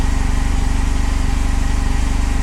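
A Honda SilverWing 600 scooter engine idles steadily on treated lawnmower fuel with stabilizer, a loud, close, even rhythmic putter that holds throughout with no talk over it.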